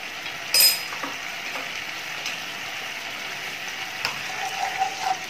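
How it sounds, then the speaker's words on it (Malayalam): Schezwan sauce with vinegar stirred in a hot pan, a steady close sizzle with occasional scraping clicks of the spoon against the pan. "അതും കൂടെ ചേർത്ത് നന്നായിട്ട് ഇളക്കാം."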